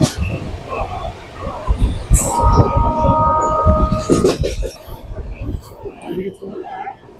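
Onboard the Shantiniketan Express running from Howrah toward Bolpur past Khana Junction, a rumbling rolling train noise with clattering wheels and a brief tonal squeal midway, while people talk over it.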